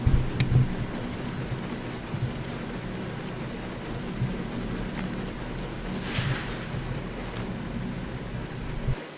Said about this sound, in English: it's just rain bouncing off the roof of the small extension I've got on the house